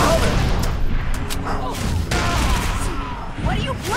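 Grenade blasts and gunfire hammer a Wraith tank in the Halo 3 ODST video game, a dense, continuous barrage of booms and shots with shouted voices over the battle.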